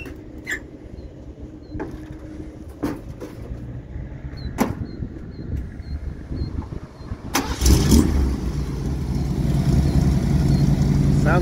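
A 1968 Ford XL convertible's engine cranks with a few sharp clicks and mechanical knocks, then catches and settles into a loud, steady rumble close by.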